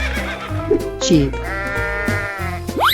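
Sheep bleat in a 3D animal sliding video game, several short wavering cries scattered over a bouncy backing track with cartoon sound effects.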